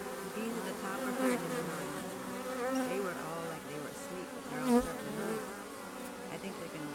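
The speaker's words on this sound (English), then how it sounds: "There's a lot of bees singing different stories here." Honey bee swarm clustered near a hive, a dense, continuous buzzing hum from many bees close by, wavering in pitch as individuals fly in and out, with no talking.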